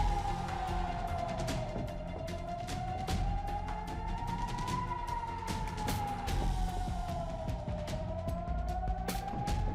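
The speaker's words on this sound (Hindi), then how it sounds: "सायरन की आवाज ने पूरे दक्षिणी इजराइल को दहशत में डाल दिया।" A distant air raid siren in southern Israel wails in a slow rising and falling sweep, continuous over a noisy background with scattered sharp clicks and rumble.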